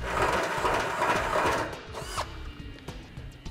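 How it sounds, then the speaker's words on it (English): A power drill with a 7/8 bit bores through a steel hat channel under a Ram pickup bed, a loud grinding whine that breaks off, followed by a brief squeal and a few metallic clicks. "We're gonna go ahead and use a 7/8 bit to open up large enough to get our tube spacer into position."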